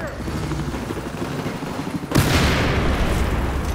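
A grenade blast in Battlefield 4 close-quarters combat, a sudden loud boom partway through that leaves a noisy rumbling tail over ongoing gunfire and battle din.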